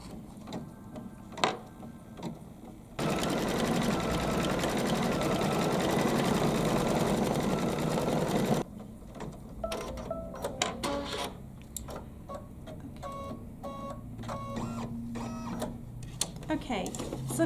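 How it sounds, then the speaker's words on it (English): An embroidery machine sews a decorative tack-down stitch around the edge of a layered Kimberbell quilting project. It runs as a loud, steady mechanical buzz for about six seconds in the middle, with talk and light handling noises before and after. "it's going to do a decorative stitch just around the edge of that part"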